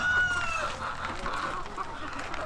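Broody hens cluck in a poultry shed at a country-chicken farm, several overlapping throaty clucks and calls close by, continuous and fairly loud.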